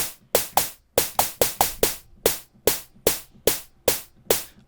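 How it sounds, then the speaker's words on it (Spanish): Simple synthesized snare drum built from white noise, struck alone as a run of short, sharp noisy hits in an uneven pattern, each snapping in and decaying quickly at a steady, clear level. "Y ahí tendríamos un snare muy sencillito."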